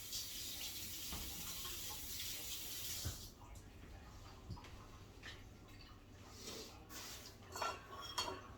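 Food items are rinsed under a running tap in a kitchen sink during meal prep: a steady broadband water rush for about three seconds, then quieter splashing and handling with a few dish and utensil clinks, close and fairly loud.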